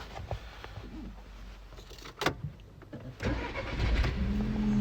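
A 2008 VW Golf Plus 1.4 TSI engine cranks and catches around the midpoint, then settles into a steady, low idle that grows slightly louder toward the end.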